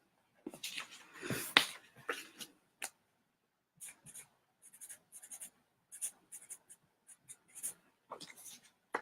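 A pen scratches on paper while seeds are written into a journal, close and quiet in short bursts separated by pauses, with soft voice sounds mixed in.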